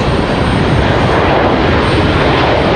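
A United Boeing 737-900 airliner at Raleigh Durham airport gives a loud, steady engine roar that holds close and unbroken throughout, with no speech over it.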